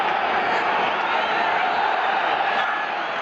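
A large stadium crowd roars at Shea Stadium during an NFL game between the Green Bay Packers and the New York Jets, a loud, steady wash of noise with no break.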